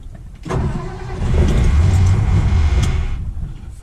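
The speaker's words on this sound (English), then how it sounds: "But this thing definitely takes a lot to start. Starter even sticks sometimes." The starter of a 1959 Edsel, which tends to stick, cranks the engine in a loud, close, rough rumble that builds and holds for a few seconds before tapering off.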